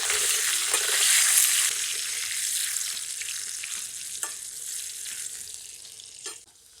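Potatoes seasoned with salt and turmeric fry in a pan, a steady bright sizzle running throughout, loud at first and easing slightly, with a couple of faint clinks of stirring near the end.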